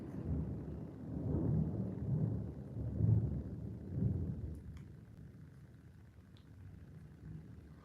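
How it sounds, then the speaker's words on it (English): Low rolling thunder rumbles through a storm in Sydney, swelling in several long waves before easing to a softer, distant grumble with faint rain hiss. "Thunder here"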